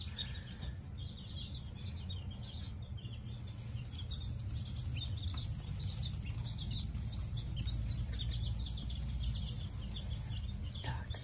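Steady high chirping and cheeping of many five-day-old chicks, continuous and close, over a constant low rumble of background noise.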